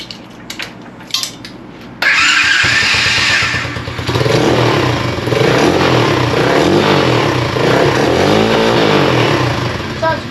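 A pit bike fitted with a new muffler exhaust starts up and revs loudly nearby with a throaty, rising and falling note, preceded by brief clattering handling sounds.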